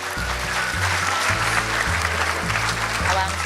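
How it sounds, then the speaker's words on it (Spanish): An audience applauds a speaker at an entrepreneurs' event, a steady wash of clapping with a low rhythmic hum running beneath it. "Aplausos, por favor."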